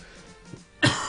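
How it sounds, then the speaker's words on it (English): A single harsh cough bursts out near the end of a quiet moment, loud and close, with throat-clearing roughness. "coughing my lungs out"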